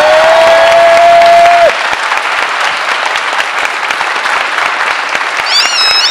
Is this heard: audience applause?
yes